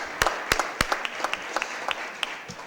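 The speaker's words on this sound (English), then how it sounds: "Let's give Ember a big round of applause." Applause at a board of aldermen meeting, a room of people clapping with sharp individual claps standing out over a steady patter, fairly close and moderately loud.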